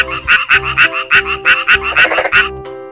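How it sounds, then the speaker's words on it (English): A toy frog's croak repeats in a steady pulsing rhythm of about eight loud, close calls over three seconds, with no voices alongside. "Frog."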